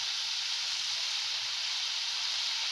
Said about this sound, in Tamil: ஒரு 2 நிமிஷம் நம்ம இதை வதக்கிக்கலாம்.